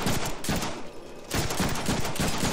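Rapid bursts of gunfire from the Deadpool video game, several loud volleys broken by a short lull, with no voices.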